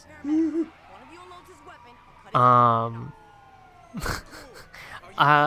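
An ambulance siren in Grand Theft Auto V wails in short rising bursts, interrupted by stretches of talk.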